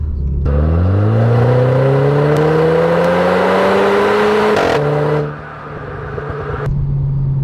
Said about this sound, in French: Et en automatique, on entend bien mieux les passages de rapport, je trouve.